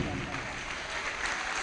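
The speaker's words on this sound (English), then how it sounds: "keep the applause coming for her till she gets here" Audience claps in a short burst of steady applause, faint and somewhat distant, mixed with a low murmur of voices.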